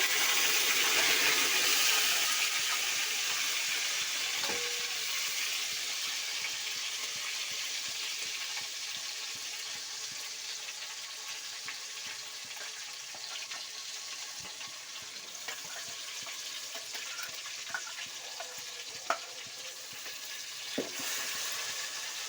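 Ground masala hits hot oil with bay leaf, stone flower, cinnamon, cloves and star anise for chicken biryani; a loud sizzle bursts up at first and gradually settles into a quieter crackle with occasional clicks.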